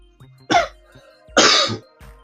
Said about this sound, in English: Just holding that cough for like 6 minutes.